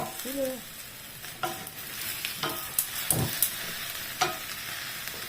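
Leftover adobo reheating in a pan, with a soft continuous sizzle and scattered scraping clinks of a utensil stirring it, fairly quiet.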